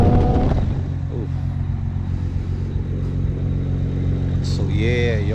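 A built BMW 335i engine with a single 6466 ball-bearing turbo pulls hard, giving a loud, close, deep rumbling drone as the car accelerates, with higher whistling and rising tones near the end.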